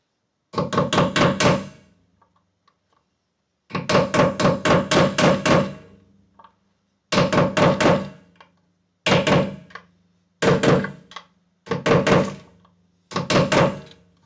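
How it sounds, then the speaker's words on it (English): Hammering parts into a custom guitar body in a luthier's workshop: bursts of rapid, sharp hammer blows separated by pauses, loud and close, with no talking. "We'll hammer that down to the bottom."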